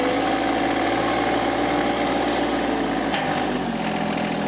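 A John Deere 2025R compact tractor engine runs steadily on its foot throttle, giving a constant, loud, droning hum with a faint metallic rattle and no shifts in pace.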